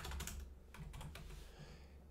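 Keys clatter on a computer keyboard in a short flurry of close clicks over a low steady hum, with no one talking.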